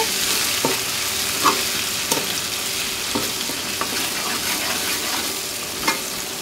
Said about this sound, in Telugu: ఈ అల్లం వెల్లుల్లి పేస్ట్ పచ్చివాసన పోయే వరకు ఈ విధంగా ఫ్రై చేసుకోవాలండి.